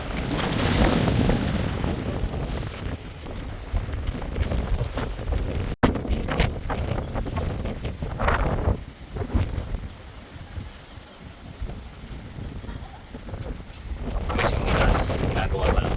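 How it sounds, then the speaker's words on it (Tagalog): Strong wind buffets the microphone at a beach resort in Calatagan, Batangas, a continuous heavy rumble mixed with surf and water washing nearby, loud throughout and easing slightly midway before gusting up again at the end. "lakas pa rin ng hangin, di pa rin tayo makapalipad ng drone."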